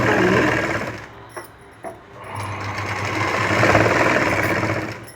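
A sewing machine runs steadily while stitching a puff sleeve with a quarter-inch seam, producing a continuous close mechanical whir that briefly drops and restarts twice before running on at a steady pace.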